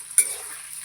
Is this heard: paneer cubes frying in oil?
yes